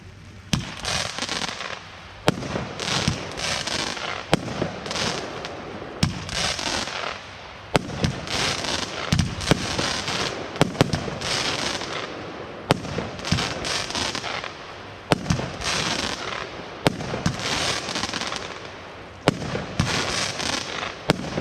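A Weco Beastmaster 18-shot consumer firework battery fires in a store demonstration, giving repeated loud launch thumps and crackling bursts spaced every second or two over about twenty seconds, with no voices.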